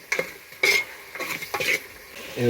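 Cut mango pieces stirred into crab masala in a pot over a wood-fired stove: a spoon scrapes and clanks against the pot in several distinct strokes, with a soft wet sizzle beneath.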